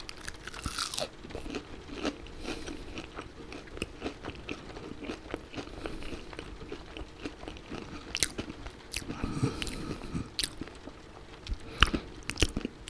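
Close-up crunching and chewing of crunchy snack food in an ASMR-style recording, with repeated crisp bites and steady mastication throughout, no talking.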